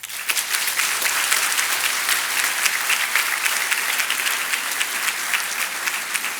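Dense, sustained audience applause fills a graduation ceremony hall for a Master's marketing department class, many hands clapping steadily with a bright, even texture and no voices over it.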